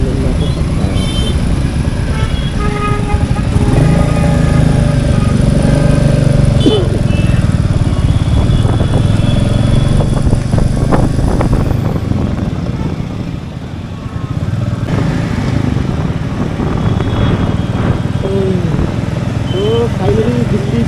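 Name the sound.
Royal Enfield Meteor motorcycle riding on Delhi roads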